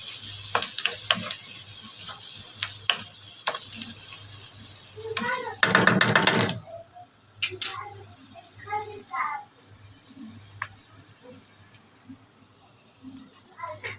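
Pasta sauce with spices simmers in a pan, giving a faint, steady crackle and scattered soft pops, with a brief louder hissing burst partway through and some quiet background sound.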